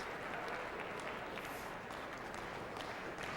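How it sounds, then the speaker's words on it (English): A curling crowd at the 2004 Continental Cup of Curling singles competition applauds steadily, a dense, even wash of clapping that holds at the same level throughout, with no clear voices above it. "And the crowd responding."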